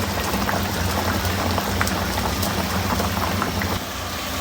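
Rohu fish head curry boiling in a pot, a steady dense bubbling and rain-like spattering that stays close and even throughout, with no talk.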